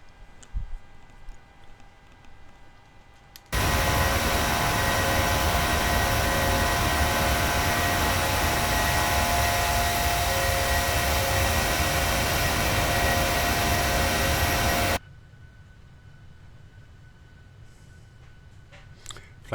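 Jet airliner engines roaring as the plane climbs out after takeoff in a PMDG flight simulator game, a loud steady roar that starts abruptly after a quiet stretch and cuts off just as suddenly, with no talk.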